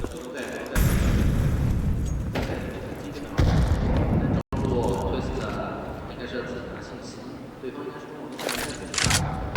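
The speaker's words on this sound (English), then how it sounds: "Nice little nade damage" A grenade goes off during a professional Counter-Strike match at the Perfect World Shanghai Major 2024, a heavy boom with further in-game blasts. Energetic commentary from casters runs over the whole stretch.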